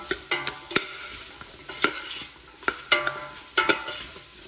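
Chopped white onion and carrots frying in a pot, a soft sizzle under repeated scraping stirs and clacks of a utensil against the pot, close up and irregularly spaced.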